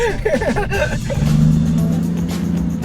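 Aston Martin Vanquish sports car on a Shanghai street, its engine rising into a steady sustained rev with low droning tone, starting under brief talk then carrying alone to the end.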